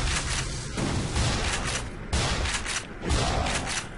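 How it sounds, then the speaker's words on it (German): Gunfire in the video game Black Mesa, a dense burst of loud, reverberant shots and booms in quick succession, with no talking. "drei Schüsse"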